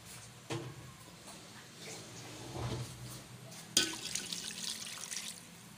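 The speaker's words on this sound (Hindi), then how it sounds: "और पानी डालेंगे।" Water pours into a cooking pot of beef qorma with beef and qorma masala, a quiet trickle and splash against low background hiss, with a few clinks and a sharper splash near the end.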